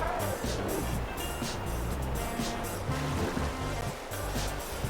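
Rushing water from a waterfall in the video game Pokemon Violet, a continuous broadband wash with soft uneven surges and some low, clicky game sounds mixed in.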